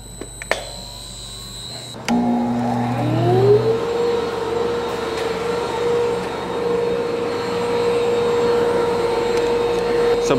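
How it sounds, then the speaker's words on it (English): A dust collector on a Wood-Mizer Slabmizer slab flattening mill switches on after a couple of seconds of quiet, spooling up to a loud, steady roaring whine that holds close and constant to the end. "I gotta get over there and turn on the dust collection"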